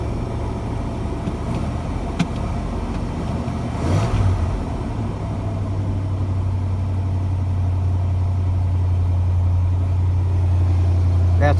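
Truck engine idling steadily after being started with choke, a low continuous rumble close by with a slight rise in speed midway and a faint click, running alone throughout.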